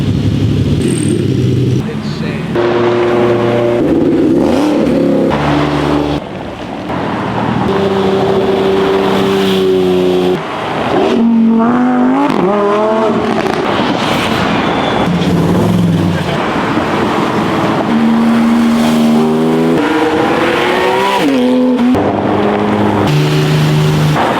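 Cars accelerate past spotters sitting on a street, engines rising and falling in pitch as each one revs and pulls by, loud and close, one after another, with voices talking underneath.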